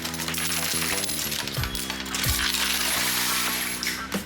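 Coins drop and clatter again and again in a high-limit coin pusher arcade machine, a busy metallic jangle over steady electronic machine tones, loud and close.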